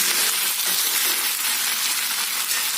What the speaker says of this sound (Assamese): 2-3 মিনিটমান ভাজিম